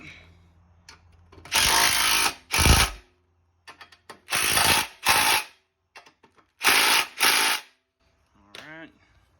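Bolts are cinched down with a ratchet while a Can-Am winch goes onto an Outlander 700XMR: loud, close bursts of rapid clicking come in several separate runs, split by short quiet pauses.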